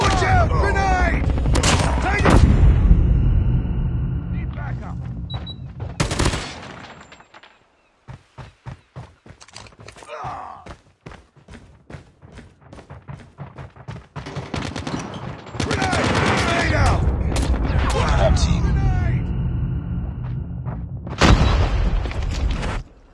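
Call of Duty Mobile match with rapid bursts of gunfire and heavy booming grenade explosions, loud and close, broken by a quieter stretch of scattered single shots, with in-game voice callouts mixed in.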